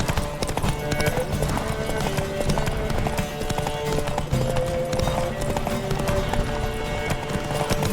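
Rapid, rhythmic hoofbeats of galloping horses in The Witcher 3: Wild Hunt pound continuously, dense and close, with some game-style background layered underneath.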